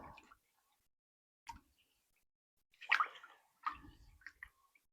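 Salisbury steak mixture of frozen meatballs being stirred in a crockpot, a few wet squelching, sloshing strokes separated by short pauses, close and fairly quiet.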